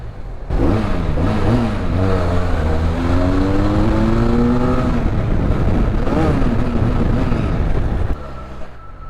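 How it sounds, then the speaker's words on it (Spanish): A Benelli Leoncino 500 motorcycle rides through a tunnel, its engine booming loud and close as it revs and rises in pitch, echoing off the walls for several seconds before easing off. "este túnel es perfecto para escuchar el sonido de la moto"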